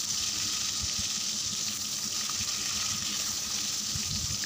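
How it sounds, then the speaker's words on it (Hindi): Turmeric-coated brinjal pieces frying in oil over a low flame, a steady, close hiss and sizzle with occasional soft pops throughout, no talking. "मैं अब एक एक करके सारा जो बैंगन है इधर डाल दूँगी"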